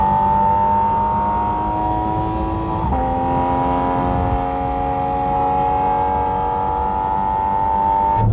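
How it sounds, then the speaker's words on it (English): Engine of a 2023 Porsche GT4 RS revving in steady, sustained tones with a brief dip and recovery midway, loud and close with no talking. "It's a GT engine."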